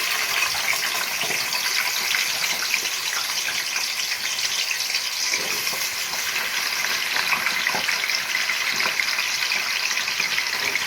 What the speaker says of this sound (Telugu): ఇప్పుడు ఆలు వేసుకుంటున్నా.